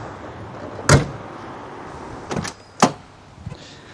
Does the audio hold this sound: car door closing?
yes